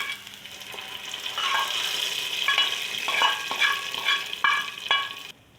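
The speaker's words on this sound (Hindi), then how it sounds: "तो चलिए बस अभी दाल में ये तड़का डाल देती हूँ।" Tadka for whole green moong dal sizzles loudly as hot tempering with green chillies hits the dal, a steady frying hiss broken by repeated sharp spattering bursts, close and with no voices.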